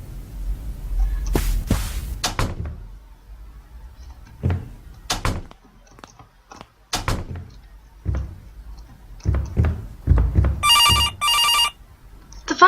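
Telephone in the game From Next Door rings in a short electronic burst near the end, after a string of scattered thuds, clicks and door-like knocks in a quiet room.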